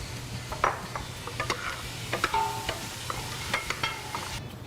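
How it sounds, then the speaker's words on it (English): Onions for clam chowder sauté quietly in a pot under a soft, low sizzle. Scattered scrapes and clinks of a spoon stirring come up through it, with a brief thin squeak partway through. "So we just finished sauteing our onions"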